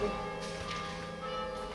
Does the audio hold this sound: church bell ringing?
yes